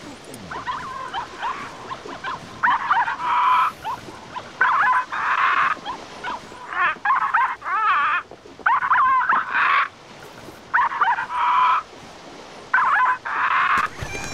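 A parrot in the video game The Cave imitates a dog's bark, producing clusters of short, sharp yelping barks repeated in rhythmic groups, fairly loud over a faint game background.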